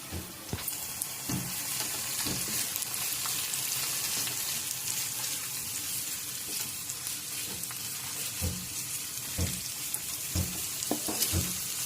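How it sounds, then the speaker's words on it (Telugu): Onions frying with sprouts in a pan give a steady, loud sizzle throughout, broken by scattered scraping knocks as the mixture is stirred, with no talking. "ఇప్పుడు ఆనియన్స్ వేసి బాగా మిక్స్ చేయండి."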